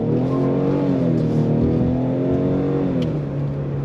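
Engine of a 2022 Ford Explorer ST-Line revs under throttle, a loud steady drone whose pitch climbs and then eases off, heard close with no talking.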